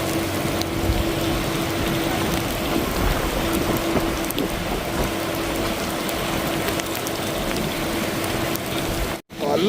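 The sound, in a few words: heavy summer rain in Dubai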